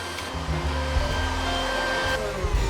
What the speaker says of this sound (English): the vacuum cleaner is an ingenious way to quickly prep the lamp for wiring